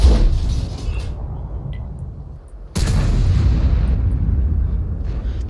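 Tank cannon shots in a World of Tanks-style battle, with a HEAT round fired at an EBR: two heavy, booming blasts about three seconds apart, each with a deep rolling tail, loud and close.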